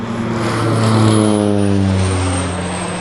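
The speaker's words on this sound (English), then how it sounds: "this plane's coming over" A propeller airplane drones overhead, its engine tones sliding steadily downward as it passes, a moderately loud sweep heard in open countryside with no voices.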